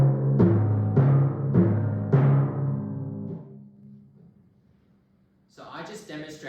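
Timpani struck near the edge of the head, three firm booming strokes in steady succession, each ringing tone then muffled by hand dampening until the drum falls quiet, with a voice starting to talk at the end.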